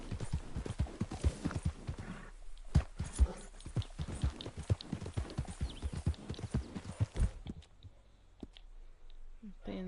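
Horse hooves from the video game Red Dead Redemption clop in a quick, irregular rhythm, loud and close, then slow to a few scattered steps near the end. A faint game voice sounds in places.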